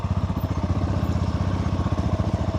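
A Sothassi 400 Classic motorcycle engine thumps steadily with a rapid, even pulsing beat during a ride through an industrial area, close and continuous with no talk.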